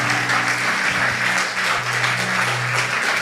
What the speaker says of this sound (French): On acclame pour le Saint-Esprit.